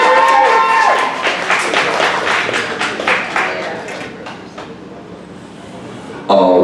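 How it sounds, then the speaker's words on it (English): An audience at a poetry slam applauds loudly in a dense burst of clapping that gradually thins and fades, ending with a sudden loud noise. "I need you to continue clapping for Lucas, right?"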